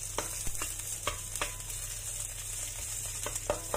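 Blended garlic, onion and chili sizzle and fry in a pan for Indonesian-style squid in black ink, a steady close hiss with occasional stirring scrapes and clicks.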